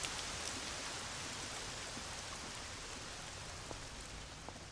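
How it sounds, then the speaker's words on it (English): Steady rain from the video game Lost Odyssey, a dense even hiss of drops on surfaces with scattered individual raindrop ticks, continuous and fairly soft throughout with no talk. "That rain sounded so good."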